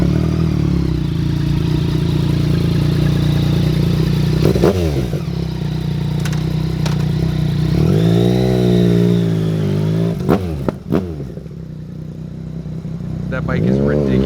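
A 2016 Yamaha Bolt motorcycle engine runs loud and close, holding a steady throbbing idle and then revving up and down in a few swells, with people talking over it.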